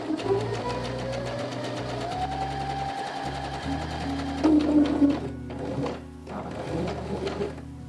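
A sewing machine runs a second seam along a collar, its rapid needle rhythm humming steadily up close with short stops and restarts and a faint voice talking underneath.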